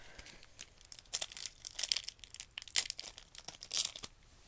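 Pokemon merchandise packaging being torn open by hand, a run of sharp crinkling rips and crunches in irregular bursts, close and fairly loud.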